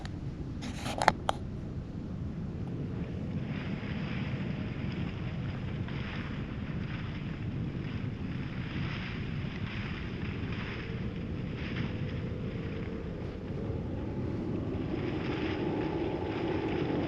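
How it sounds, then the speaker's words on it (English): Wind rushes steadily outdoors in a bear-tracking setting, a broad low roar with gusty buffeting on the microphone, plus a brief sharp knock near the start and no talking. "Wind's picking up. I hear it."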